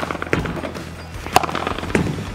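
Padel volleys off an Adidas Metalbone racket land as several sharp, hollow pops in quick succession, close and fairly loud on a court.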